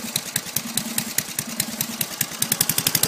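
An old abandoned lawn mower engine idles low and close by, a steady, loping putter of regular firing pulses with a slightly uneven beat and a rattly edge.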